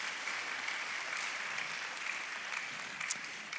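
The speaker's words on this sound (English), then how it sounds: "Please join me in giving them a round of applause." A crowd at a school fifth-grade graduation gives sustained applause, steady dense clapping filling the room evenly from start to finish with no talking.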